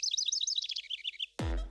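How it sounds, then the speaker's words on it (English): Birds chirping in quick, bright repeated tweets for over a second, then cut off abruptly by a booming low swell, with no talking. "So if you took the sound of birds chirping,"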